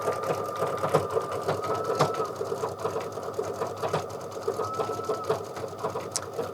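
Embroidery machine stitching Kimberbell outline stitches on a mug rug project, a steady fast mechanical needle rhythm running continuously and close, with no talking.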